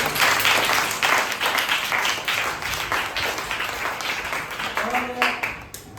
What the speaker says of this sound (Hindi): एक बार मैम के लिए तालियां बजाएं